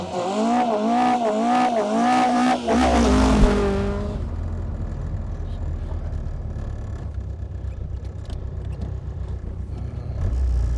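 A modified VW Golf Mk1 gets under way: a wavering, tonal engine whine rises and falls for a few seconds, then gives way to a steady low rumble as the car drives on, fairly close, with no talk.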